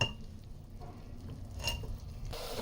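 Vegetables, tinda and guar beans, are stirred in a pan over a low flame, with soft scraping and light clinks of the spoon against metal, close and fairly quiet, alone.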